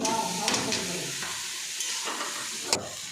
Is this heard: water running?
no